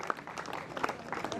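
Applause at a Sanatan welcome ceremony in Bhavnagar, a short burst of scattered hand clapping from a gathered audience, fairly faint and distant, with a few sharper individual claps standing out.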